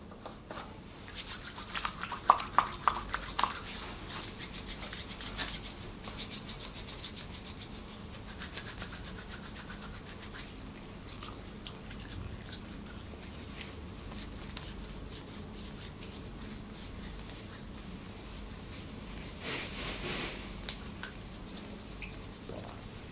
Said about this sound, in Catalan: Realitzem una higiene de mans.